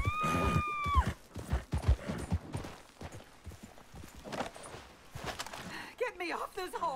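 A horse in Red Dead Redemption 2 clops its hooves and whinnies close by, the steps and snorting mixed under frequent talking from a player's voice.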